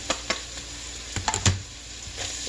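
Sausage and chopped vegetables stirred in a soup pot for zuppa, with a constant close sizzle broken by a few scraping and knocking strokes of the spoon.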